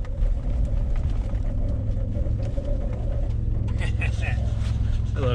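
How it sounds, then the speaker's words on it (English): An old Ford car drifting on a slippery surface, its engine a steady loud rumble throughout, with a burst of higher revving and tyre noise near the end; a person whoops and talks over it. "Time to drift the old Ford."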